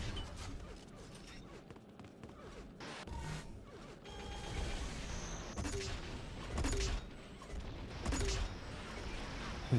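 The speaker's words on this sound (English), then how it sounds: "You see the artillery shells just being launched by DD" Artillery shells launching in an Unreal Tournament match, a busy layer of repeated firing bursts and mechanical clatter with a few louder pops, set under ongoing game noise.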